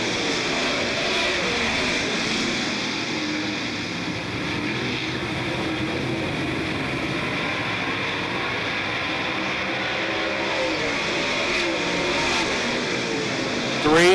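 Super late model race cars circling Smoky Mountain Raceway, a sustained engine roar with passing pitch sweeps as cars go by, constant and fairly loud throughout.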